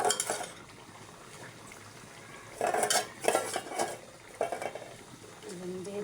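Baim fish cooked with tomatoes and water in a pan, stirred with a utensil, giving several close clinking scrapes against the pan with quiet gaps, and a voice briefly at the end.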